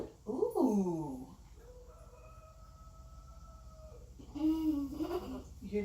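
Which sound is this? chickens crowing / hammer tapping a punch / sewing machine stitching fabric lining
chickens crowing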